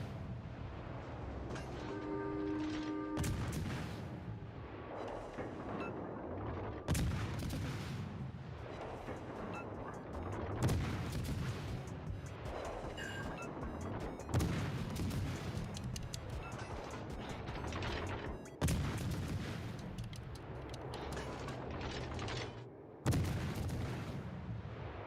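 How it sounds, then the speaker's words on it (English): The battleship Duke of York fires its big guns in a naval video game, booming salvos landing about every four seconds over a constant low rumble of engines and sea. "we're gonna wait for the Duke of York to start shooting his guns"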